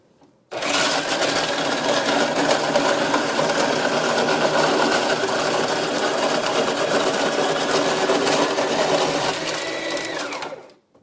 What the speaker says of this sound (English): I'm just going to start the machine up and start crushing ice.